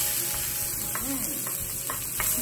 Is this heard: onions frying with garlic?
yes